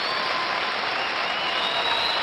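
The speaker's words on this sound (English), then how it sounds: "And they're standing up, giving him a standing ovation." Sustained, loud applause from a standing crowd at the Canadian Curling Championship in the Stampede Corral arena in Calgary, a dense steady roar of clapping filling the whole moment.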